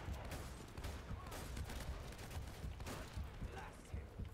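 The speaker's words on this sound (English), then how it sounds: "why can't I fire very quick? It's because I've got a shotgun." Shotgun blasts in the game Unexplored come as dense, rapid bursts of gunfire, loud and continuous over background noise.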